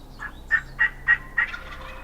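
A wild turkey gobbles during a turkey hunt, giving four or five quick, rattling bursts in a rhythmic series, clear and fairly close against a quiet outdoor background.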